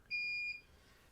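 A single short electronic beep from a remote control, clear and high-pitched, lasting under half a second in a quiet room.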